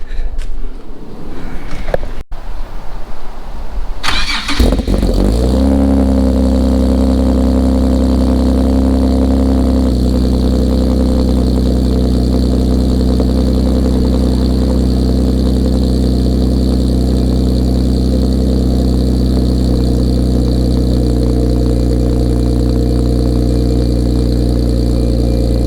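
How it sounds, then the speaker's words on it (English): A G37S with a Motordyne exhaust cold-starts with a short crank and a sharp catch a few seconds in, then settles into a loud, steady, deep idle that runs on alone. "let's keep going. Let's do a cold start on this bad boy."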